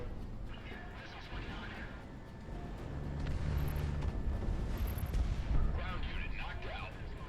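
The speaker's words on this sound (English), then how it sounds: "this should be a good strafe run" Rapid aircraft cannon fire from a strafe run in the flight combat game Project Wingman, heavy rumbling bursts rolling through the middle of the clip over steady engine roar.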